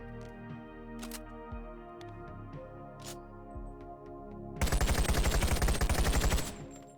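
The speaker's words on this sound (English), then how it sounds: "There's a select fire for full auto on the side, and just like the real automatic M14, it's a beast to control" Automatic M14 rifle from the Boneworks VR game firing on full auto: a dense, loud burst of rapid rounds lasting about two seconds, following a few scattered single clicks and handling noises.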